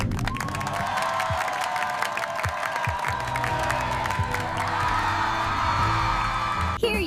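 During a children's puppet show, steady clapping and cheering mix with whoops over light background music, holding at an even level throughout.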